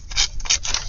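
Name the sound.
scissors trimming paper ephemera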